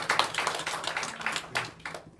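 A church congregation claps during a Sunday worship service, a dense run of hand claps for about two seconds that thins out toward the end, with no talking over it.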